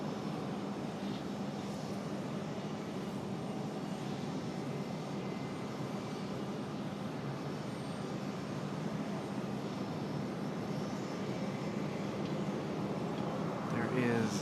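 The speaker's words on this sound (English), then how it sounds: "So Republic Airways coming in from Nashville. Going to be our next arrival." A Republic Airways airliner arriving from Nashville at Raleigh-Durham airport makes a steady, moderately distant jet engine drone that swells slightly near the end.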